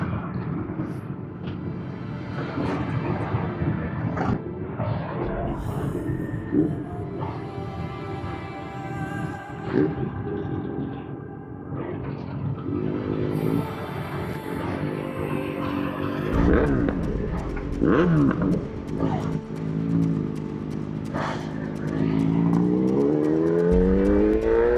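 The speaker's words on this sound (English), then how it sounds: "helmets were going on, engines fired up, and it was time to set off." Many motorcycle engines starting up and revving as a large group of riders sets off on a road ride, a dense, continuous roar of overlapping engines with rising revs and passing machines near the end.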